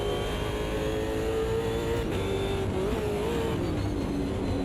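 A race car on the Adelaide 500 street circuit pulling hard in 2nd gear, its engine a loud, steady, close roar with slight pitch wavers and no voices.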